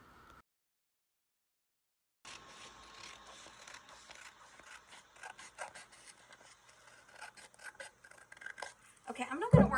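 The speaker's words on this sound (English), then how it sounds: "I'm going to trim around the edges, make sure there's no white edging left around it." Clear patterned vinyl sheet being trimmed around its edges for a tumbler wrap, with close, irregular scraping and rasping cuts after a brief silence, louder rustling toward the end, no talking.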